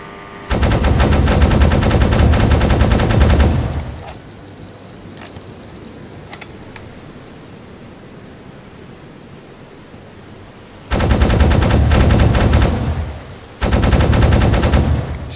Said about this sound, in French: J'essaye de tirer assez bas, mais en fait, la hauteur minimum de du canon anti-aérien, là, c'est assez haut au final.